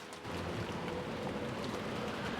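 Steady, heavy rain pours without a break as a stormy downpour on an island in the video game Umineko When They Cry, with a dense hiss and low rumbling underneath and no voices.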